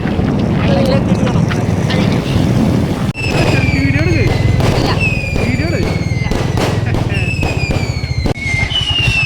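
Festival fireworks along the road between Kochi and Thrissur during temple and church feasts: loud repeated bangs and crackles, with whistling rockets rising and falling, over steady wind and rumbling noise.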